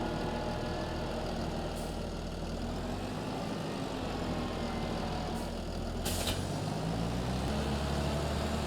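A vehicle engine in Farming Simulator drones steadily while pulling a trailer, a constant low rumble that holds at the same level throughout, with a brief hiss near the end.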